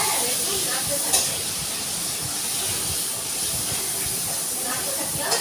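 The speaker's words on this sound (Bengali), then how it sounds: "টমেটোটাও দিয়ে দিলাম তেলটার মধ্যে" Tomato sizzles in hot oil while a fish curry is being cooked, a steady broad hiss with a couple of brief stirring knocks.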